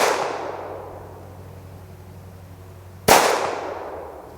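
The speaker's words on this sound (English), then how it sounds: "So let me shoot a couple more rounds." Shots from an SDS Imports Duty SS45 .45 pistol: one loud, sharp report whose echo dies away over several seconds, then a second close blast about three seconds later, with no talk.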